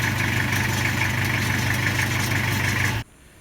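Toyota Unser engine idling after twenty years of use, a heavy, steady lorry-like rumble with a regular low throb, loud and close, running evenly then cutting off abruptly near the end.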